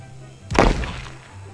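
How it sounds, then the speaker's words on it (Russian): A bomb goes off in the building game Scrap Mechanic, giving a single sharp, loud blast with a short rumbling tail that fades within about half a second over a quiet hum. "Вот это такая бомба сделала такой взрыв."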